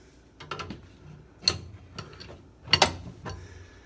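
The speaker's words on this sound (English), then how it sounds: "Twist it a couple times with the wrench." Two wrenches twist the nuts on a home furnace, giving a few scattered metallic clicks and scrapes, close and fairly quiet.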